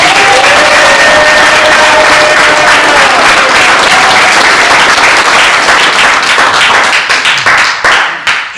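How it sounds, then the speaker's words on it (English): Loud, dense applause from an audience at a publication event honoring families, sustained clapping from a crowd that thins toward the end with a few scattered claps. "Let's give our families a round of applause"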